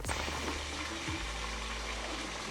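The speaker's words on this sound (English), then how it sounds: "I'll be frying my chicken" Steady, broad sizzling of chicken frying in hot oil in a pot, continuous and fairly loud, with a low hum underneath and no talking.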